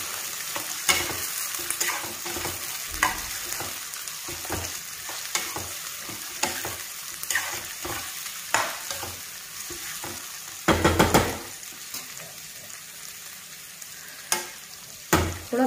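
Onions frying in a pan for a curd bhindi dish, a constant sizzle broken by repeated scraping strokes of a spatula stirring them, close and fairly quiet.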